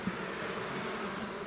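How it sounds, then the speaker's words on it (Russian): Honey bees buzz around hive frames moved from a swarm trap into a prepared hive, a dense, steady close-up hum with no voices. "И смотрим, значит, бесплатные пчелы."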